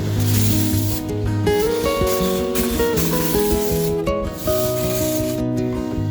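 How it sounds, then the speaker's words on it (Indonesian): A sprayer mists a freshly pruned grapevine with a continuous loud hiss that runs through the whole stretch and dips briefly, with a steady tonal background beneath it. "kita semprot saja semuanya sekalian"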